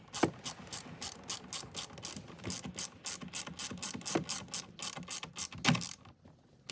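A ratchet wrench clicks in a quick, even rhythm as it tightens the steering wheel bolts on a Cadillac CT4/CT5-V Blackwing during a carbon fiber wheel install. The clicking is close and loud, with nobody talking, and it stops near the end.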